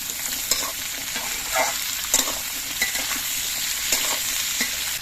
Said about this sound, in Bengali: এবার সজনের ডাটা দিয়ে আলু দিয়ে কিছুক্ষণ ভেজে নিতে হবে